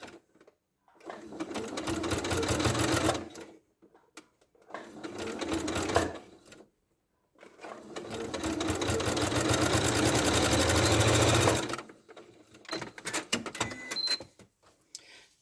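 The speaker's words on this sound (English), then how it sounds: "it's not too difficult to sew." A sewing machine stitches fabric around a gentle curve while a ladybird soft toy is being made, running in three steady bursts, each a rapid, loud whirring drone with short quiet pauses between, and no talking.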